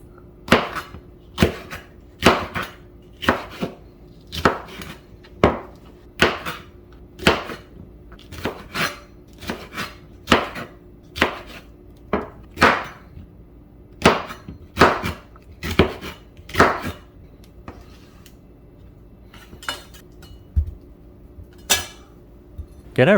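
A knife slicing three serrano peppers into chunks on a cutting board, about two dozen sharp, evenly spaced chops that knock crisply against the board, close and clear with no talking.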